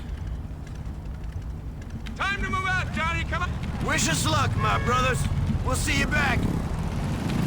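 Engines of several motorcycles rumbling and revving as riders pull away together in the game GTA: The Lost and Damned, a steady low drone growing louder, under dialogue from game characters.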